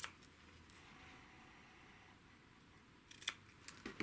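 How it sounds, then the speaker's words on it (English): Scissors snip fabric nubs off quilt block pieces, a few quick, close cuts near the end over a quiet background. "I just take a scissors and cut it"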